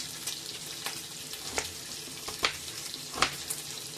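Diced onions sizzling in a frying pan, a steady close crackle with a few sharper pops and stirring clicks scattered through it.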